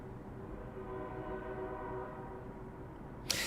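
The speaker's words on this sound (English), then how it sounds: "I like that noise, that periodic train sound." A train passes continuously, a steady low rumble with a faint tonal hum, heard from a distance with no talking and a brief sharp noise at the end.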